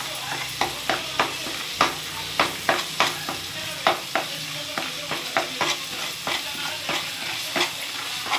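Ginger garlic paste sizzles and fries in a pan for a fish curry. A steady crackle runs throughout, with regular stirring scrapes of a spoon against the pan, close up and alone.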